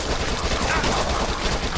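Dense, continuous submachine gun fire in the zombie shooter Dead Nation Apocalypse Edition, set downtown: a loud, unbroken rattle of rapid shots filling the whole stretch, with no pauses and no talk over it.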